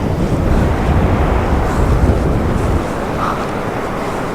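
Sea waves at Mypadu beach near Nellore, where the Penna river meets the sea, roar as a broad, loud surf wash mixed with heavy wind buffeting the microphone, easing slightly after a few seconds.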